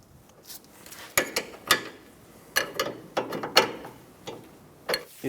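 A 22mm wrench snugging down the jam nut on the inner tie rod of a 2012-2020 Chevrolet Sonic, with several sharp metallic ratcheting clicks and taps in short irregular bursts, close and fairly quiet.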